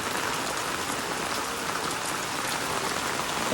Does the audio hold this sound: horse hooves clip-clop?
no